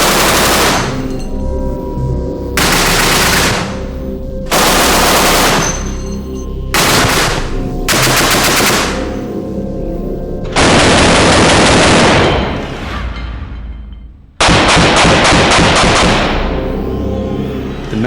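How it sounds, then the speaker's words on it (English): A Messerschmitt 20mm cannon fires at a simulated Spitfire wing in a series of very loud, rapid bursts, some short and some several seconds long, separated by brief pauses. "the terrifying 20mm cannon. The marksman will see what damage something this size can do to a simulated Spitfire wing."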